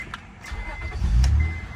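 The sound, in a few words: 1999 Acura 3.0CL engine starting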